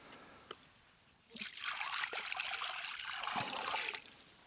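Clean stream water, with twigs and debris floating in it, trickles and splashes steadily for a few seconds as something is rinsed outdoors on a hike to a forest cabin.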